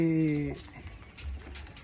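A pigeon gives a short, low coo at the start, then soft rustling and faint muffled sounds follow.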